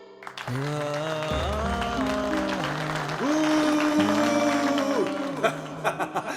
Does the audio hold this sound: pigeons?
no